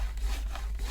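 Paper trimmer blade scoring cardstock for a card, heard as one short, continuous scraping rub, close and moderately loud, with no voices.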